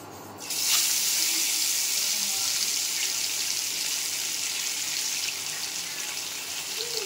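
Tap water gushes into a sink as small chika fish are rinsed under it, the flow starting abruptly after a brief pause and then running in a steady, close splashing stream.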